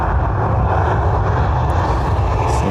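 An airliner rolls for takeoff on runway 10R at Dublin Airport on a winter Saturday, a loud, sustained engine rumble and roar close by with no voices.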